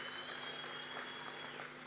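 Applause from a crowd at an outdoor public meeting greeting a government minister, a steady faint wash of clapping that fills the short stretch without pause.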